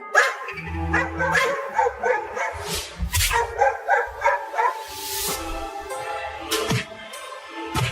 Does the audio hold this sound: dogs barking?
yes